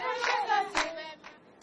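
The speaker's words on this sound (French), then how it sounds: "On va applaudir pour elle." Applause at a Washington forum event, a short burst of hand clapping in quick bursts that fades within under two seconds, fairly close, with no voices over it.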